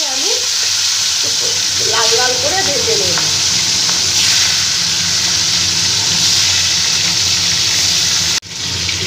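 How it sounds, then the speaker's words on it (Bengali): Fish fries in hot mustard oil in a wok, giving a loud, continuous sizzle with occasional stirring clinks, then a brief break near the end. "মাছগুলো ভাজার জন্য কড়াইতে সর্ষের তেল দিয়ে দিয়েছি তেল গরম হয়ে গেছে এবার মাছগুলো"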